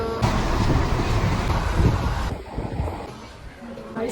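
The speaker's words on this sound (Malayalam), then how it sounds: "അങ്ങനെ നമ്മൾ ട്രെയിൻ കയറി." Steady rumble and rushing wind noise from inside a moving train bound for Palakkad, loud and continuous, easing slightly partway through.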